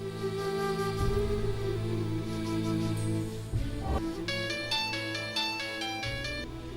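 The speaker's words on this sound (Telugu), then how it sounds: "నీ ఫోన్ రింగ్ అవుతోంది." A mobile ringtone starts partway through, repeating bright electronic tones over a steady musical background.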